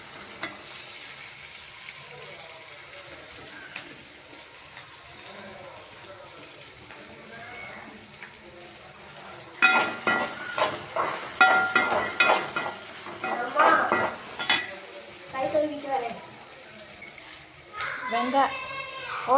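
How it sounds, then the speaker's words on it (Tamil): Onions sautéing in a pan with a soft, continuous sizzle, then louder scraping and stirring bursts, while children's voices and other speech are heard nearby. "வெங்காயம் நல்லா வதங்கிடுச்சு"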